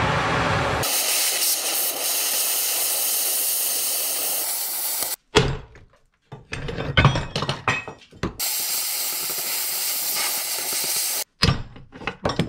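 A cutting torch roars on metal while cutting into a pickup truck: a loud, sustained, rushing hiss in long stretches, broken by short gaps filled with clanks and knocks.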